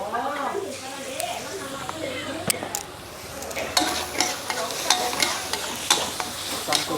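Squid stir-fried in a pan, with a steady sizzle and a scraping spatula and scattered clanks close by, while voices talk throughout.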